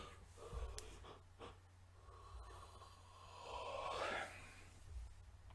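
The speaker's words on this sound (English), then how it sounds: "Sorry for all the yawning." Someone yawning while tired, a long breathy yawn swelling in the middle with gasps and sniffs around it, close and quiet, no speech.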